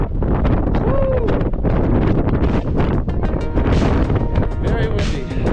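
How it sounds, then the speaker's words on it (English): Strong gusty mountain wind on the summit of Djebel Toubkal, Morocco, buffets the microphone in loud, continuous roaring blasts, with a voice faintly heard through it. "Very windy."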